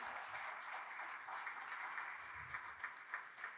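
Faint, distant applause from a crowd at a pastors' meeting, a steady wash of clapping heard through a muffled, band-limited recording.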